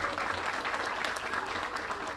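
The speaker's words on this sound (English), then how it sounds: "So give a round of applause to the Governor Pritzker and his administration for executing" A crowd applauds at a public event with Illinois Governor JB Pritzker marking the opening of an EV project funded by the Climate and Equitable Jobs Act, a dense, steady clapping that runs unbroken from start to finish.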